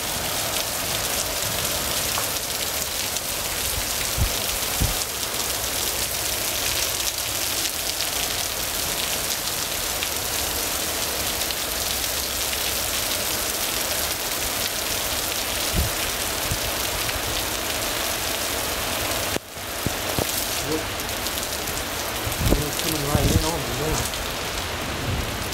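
Heavy monsoon rain pours in Scottsdale, Arizona at night, a dense, steady hiss of downpour on surfaces that continues unbroken, with a brief dip and a few scattered knocks near the end.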